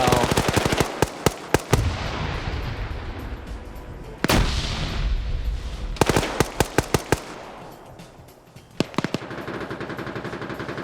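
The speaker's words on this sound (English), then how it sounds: "Grenades being thrown up" Grenades going off in an Arma 3 PvP battle: sharp broadband blasts with decaying rumble, mixed with fast rattling bursts of gunfire that come in clusters and pause between them.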